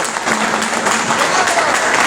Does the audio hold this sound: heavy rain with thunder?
no